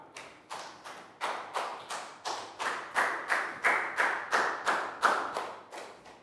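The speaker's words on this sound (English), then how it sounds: "Big round of applause for Pat." Sharp rhythmic claps repeat about twice a second, a steady patter of hands striking in unison in a primary school classroom, moderately close and unaccompanied by talk.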